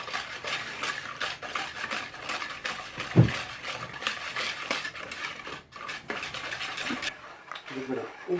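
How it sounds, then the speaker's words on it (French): Whisking an egg mixture in a bowl until it turns pale, a quick, steady scraping and clinking of utensil against the bowl, with one sharper knock partway through and a voice talking over it. "on continue à bien mélanger pour que ce soit blanchâtre"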